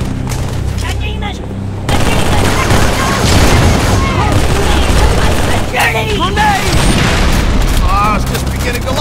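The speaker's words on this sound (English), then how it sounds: "Grenade!" Explosions and rapid gunfire from a Halo 3 battle on Legendary difficulty boom loudly and continuously, with voices calling out over the din.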